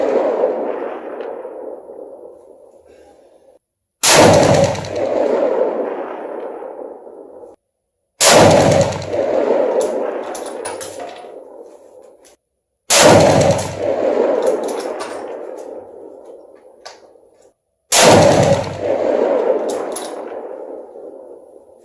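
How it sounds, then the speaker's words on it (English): Four loud Remington 783 rifle shots fired at targets, each a sharp crack followed by a long rumbling echo across open ground, spaced about four to five seconds apart with quiet between. "That would be kind of fun to try to shoot from that kind of distance at some actual targets instead of just steel."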